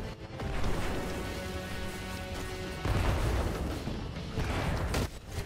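A bomb blast in the video game Destiny 2 lands as a sustained, loud, noisy roar with a second heavy surge midway and another burst near the end.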